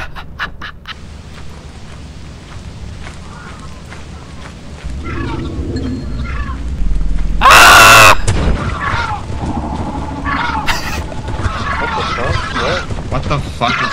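A sudden loud shrieking scream erupts from the video game Lethal Company, a brief harsh burst midway through amid chaotic game noise and excited voices.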